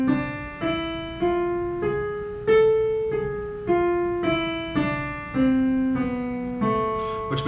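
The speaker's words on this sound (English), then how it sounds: "We have what's called harmonic minor" Piano notes climb and fall through a harmonic minor scale with the raised seventh on the way up, played one at a time at a steady moderate pace, each tone ringing clearly and alone without any voice.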